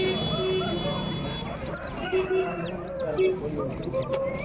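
Chicks cluck and cheep nearby at a chicken market in short, repeated calls, mixed with background voices talking and a low hum of activity.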